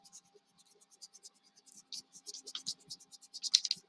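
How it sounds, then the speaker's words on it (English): Pencil or eraser scraping on paper to rub out drawn lines, a run of quick, soft, repeated scratchy strokes that grow denser and louder toward the end, recorded close with no talking. "Do the scrape, do the scrape. And erase my lines."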